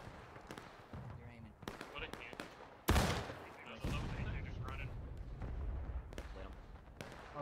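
Musket volleys in the Civil War game War of Rights, scattered sharp cracks followed by one loud close shot and a rolling, distant crackle of fire, with voices talking over it.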